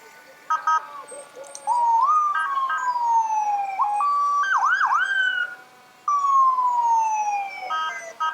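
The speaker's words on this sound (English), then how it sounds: "Engine 116 from the Grafton Fire Department." A fire engine siren from the Grafton Fire Department passing in a Fourth of July parade, wailing up and down in loud, close sweeps with a brief pause midway, over faint crowd noise.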